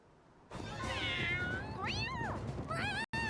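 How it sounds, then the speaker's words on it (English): Cats meow in the Visions of Mana video game, several loud, close, drawn-out chatty meows with rising and falling pitch, heard alone. "Alright, these are chatty cats."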